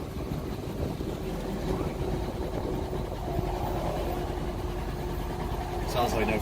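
A car engine sputters and fails to catch for lack of fuel, a rough, uneven low rumble under people's voices, with a brief sharper noise near the end.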